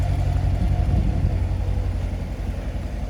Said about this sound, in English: Here we are for the exhaust note. Awesome sound to it.